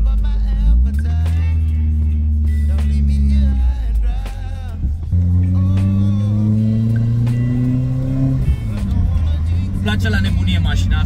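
A car accelerates through gears with the window down, engine tones climbing in two long pulls with a pause between, close and steady, while someone talks over it.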